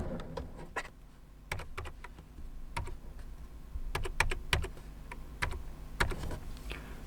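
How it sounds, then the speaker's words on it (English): Sparse, crisp keystrokes tapping in a code on a keyboard, individual clicks and short clusters spaced irregularly over a quiet room hum, close to the mic. "now type this code in the app"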